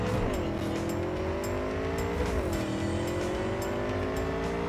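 Car engine in a Cyberpunk 2077 race, droning steadily with rising and falling revs and a gear change partway through, loud and continuous with no talking.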